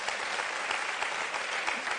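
Steady studio audience applause fills the space on an Italian television talk show set, dense and even clapping at close, loud level throughout with no talk over it.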